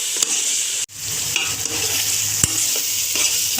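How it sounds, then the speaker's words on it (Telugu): Biryani masala is stirred into prawn biryani over a continuous sizzle, with a brief break near the start and scattered spoon clinks and scrapes against the pot. "బిర్యానీ మసాలా వేసుకున్న తర్వాత బాగా కలుపుకోవాలి."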